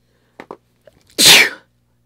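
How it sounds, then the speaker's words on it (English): A single sharp sneeze bursts out, loud and close, preceded by a couple of short quick intakes of breath. "every time I do my mascara, I have to sneeze"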